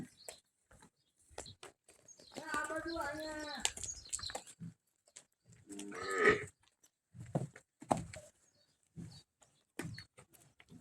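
Cows low a few times while being tied up in a village pen: two moderate moos, one early and one midway, among scattered thumps, rustling and quiet talk.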